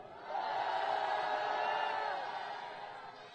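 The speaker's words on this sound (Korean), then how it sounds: "다시 한번 뜨거운 함성으로 응원해 주십시오" A large crowd at a Korean candlelight protest rally roars and cheers in a sustained swell, rising quickly and then slowly fading, heard from a distance and fairly faint.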